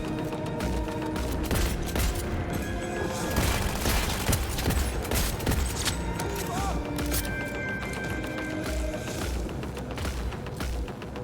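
Rapid, dense bursts of gunfire in the video game Cyberpunk 2077, loud and close, with shots layered over one another in a continuous firefight mixed with booms and mechanical clatter.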